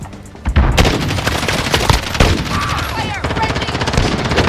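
Video game gunfire crackles in fast automatic bursts, loud and near, with overlapping shots that blend into a dense, continuous volley.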